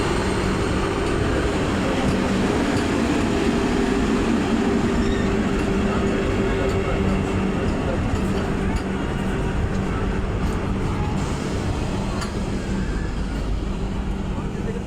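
Gitanjali Express passenger train standing at a railway station in Jharkhand, giving a steady, loud rumble of engine and carriages throughout with no pauses.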